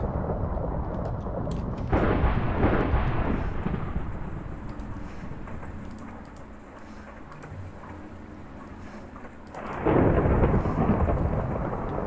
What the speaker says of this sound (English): Good lord, the thunder.